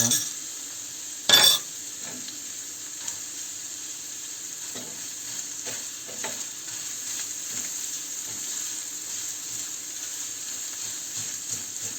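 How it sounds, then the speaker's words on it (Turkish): Tomato paste frying in a pan with a steady, close sizzle throughout, broken by one sharp scrape of a utensil early on and soft stirring clicks scattered over the rest; no voices. "Salçamın da güzelce kavrulmasını sağlıyorum."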